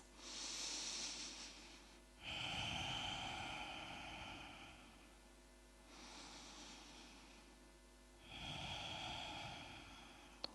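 Slow, deep breaths during a yoga session, two long noisy inhales and exhales alternating in a steady rhythm, close and fairly quiet with no talking.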